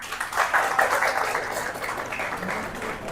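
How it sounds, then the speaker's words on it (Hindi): Applause from a lecture audience in a law class on Justice of Peace procedure, a steady wash of clapping from many hands lasting a few seconds without a clear break. "और एक बार ये वाली तालियां"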